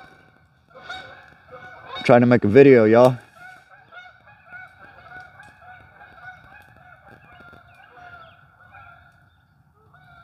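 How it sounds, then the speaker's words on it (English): Loud Canada geese honks burst out in a brief cluster, then trail off into fainter calls as the flock passes overhead, with someone speaking briefly. "Hold on, let these geese go by."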